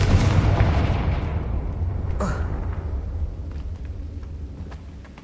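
Confringo spell blast in the video game Hogwarts Legacy, a heavy explosive boom at the start that rumbles and fades to quiet, followed by a brief faint crack.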